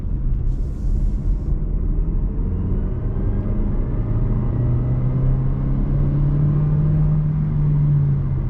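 A 2024 Renault Arkana drives at night in a sporty mode, a steady low road rumble and tyre roar from inside the cabin, with the engine note slowly rising as it holds a gear longer.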